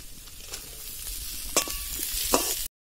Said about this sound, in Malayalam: ഇതിലേക്ക് നമുക്ക് അരിഞ്ഞു വെച്ചിരിക്കുന്ന ഉള്ളി ഇട്ട് കൊടുക്കാം.